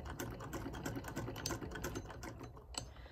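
A sewing machine runs a seam along a fabric pocket, giving a steady, rapid, close mechanical stitching chatter that keeps going for a few seconds.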